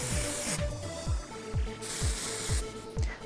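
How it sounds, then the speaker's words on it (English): Hairspray hisses onto styled hair in two close, loud bursts separated by a short pause, with faint mechanical clicking underneath. "you can use a little bit of hairspray"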